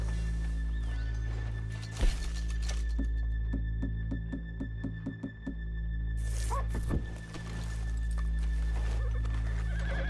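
Horses in the Red Dead Redemption 2 video game, a clear whinny followed by a steady run of hoof clip-clops, then another neigh, all over a low ambient game backdrop.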